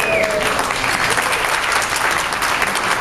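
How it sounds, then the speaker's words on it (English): Wedding guests applaud after a best man's thanks to the parents of the bride and groom, a loud, dense burst of clapping from a crowd that holds steady the whole time. "Please, a round of applause."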